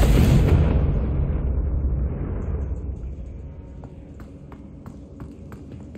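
Confringo blasting-spell explosion in Hogwarts Legacy: a loud, deep blast bursts at the start and rolls into a long rumbling decay that fades over several seconds, with faint small clicks afterward.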